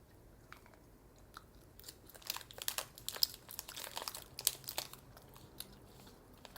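Someone chews mango and strawberry fruit gummies up close. Soft, quiet squelching and biting sounds build in the middle, then fade again.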